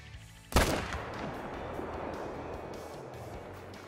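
Rifle shot while deer hunting outdoors, a single loud sharp crack followed by a long rolling echo that fades slowly against a quiet background.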